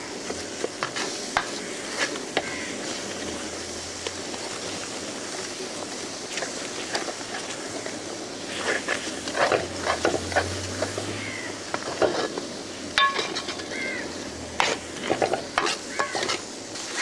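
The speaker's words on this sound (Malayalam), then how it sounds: "അത് നമുക്കൊന്ന് മിക്സ് ചെയ്യാം" Ground coconut paste is stirred into sweet pachadi in an uruli, a heavy traditional pan for an Onam feast, with soft bubbling sizzle and irregular scraping, clacking strokes of a ladle close by and no voices.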